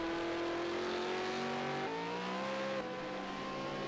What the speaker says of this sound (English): So in shot is Terry, starting to look a little bit more comfortable with this V8 supercar